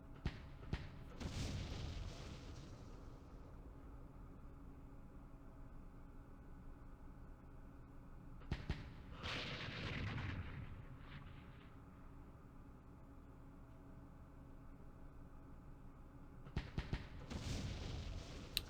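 Mortar fire in the Vietnam war strategy game Campaign Series sounds as three faint, distant booms spaced several seconds apart, each a dull thud with a short hissing tail over quiet background noise.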